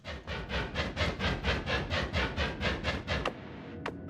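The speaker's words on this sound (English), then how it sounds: "Chainsaw!" Chainsaw in the video game Noita, a steady rapid rasping buzz pulsing about three times a second for over three seconds, then cutting off with a couple of short sharp hits.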